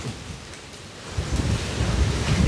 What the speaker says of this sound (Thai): ระวังลมด้วยนะครับต้นไม้ยังโยกขนาดนี้